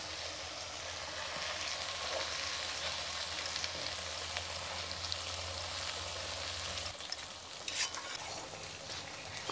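Spice paste for a chukor leaf chutney stir-fries in a pan over low heat, giving a steady broad sizzle with soft stirring scrapes that continues throughout without any talking.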